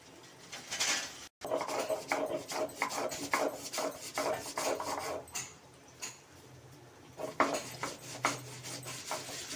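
Steady rhythmic rasping and scraping of a flat grinding stone and muller grinding spices, back-and-forth strokes repeating close by with a brief pause early on.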